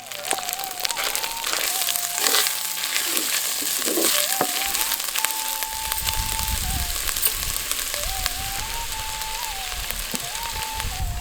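Loud, steady sizzling of a quarter kilo of chopped small shallots frying in hot oil for rajma curry, with occasional stirring scrapes and a faint tonal hum running underneath.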